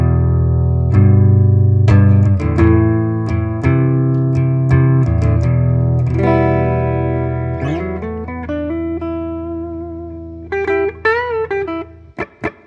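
Clean electric guitar played through a BOSS MS-3 effects unit with slight plate reverb, playing chords and single notes with ringing sustained tones that fade out, then a few bright plucked notes near the end.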